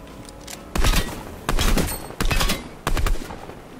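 Four loud bursts of rapid automatic gunfire from a weapon in a video game, each lasting about half a second, spaced by short pauses.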